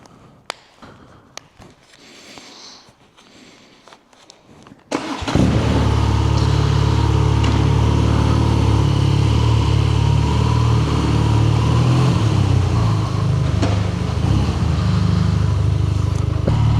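A BMW R nineT motorcycle with its factory exhaust and a modified engine map fires up after about five seconds of quiet handling noises, then idles and revs loudly and steadily, close by, with no talking.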